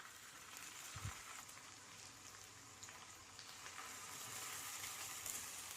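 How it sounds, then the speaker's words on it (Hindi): Chicken seekh kebabs fry over a low flame in hot oil on a tawa, a soft, steady sizzle with a faint thump as one goes in, then a gentle continuous crackle. "फ्लेम को लो पे रख के इसमें हम धीरे से कबाब डाल देते हैं"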